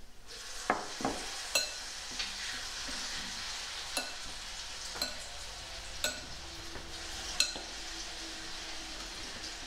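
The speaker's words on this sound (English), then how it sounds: "I'm just gonna toss the broccoli with the seasonings to make sure everything is coated" Broccoli tossed with seasonings and olive oil in a bowl, soft rustling and stirring with scattered sharp clinks of utensil against the dish, fairly close and unhurried, no voices.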